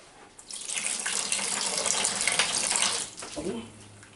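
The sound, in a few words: homemade apple cider flowing through a siphon pipe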